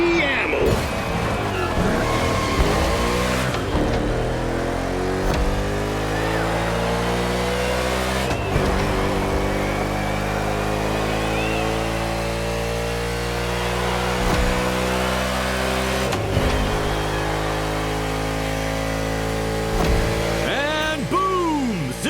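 A race car in The Crew Motorfest, on a NASCAR tour, accelerates hard through corners, its loud engine drone rising and falling steadily with gear shifts over the whole stretch.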